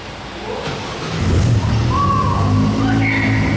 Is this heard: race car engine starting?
yes